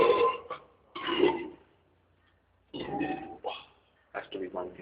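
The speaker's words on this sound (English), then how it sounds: "Has to be one continuous burp." Two long, drawn-out burps from young men, separated by a quiet gap, the second stretching into a continuous belch with a pitched, almost sung quality; loud and close, with no talk in between.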